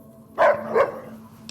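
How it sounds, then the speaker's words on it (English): Two quick, close dog barks from a companion dog in the Fallout: New Vegas video game ring out over a low steady game hum, followed by a fading tail. "Happy bark."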